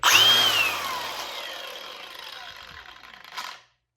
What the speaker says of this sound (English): now we got the angle grinder all put together.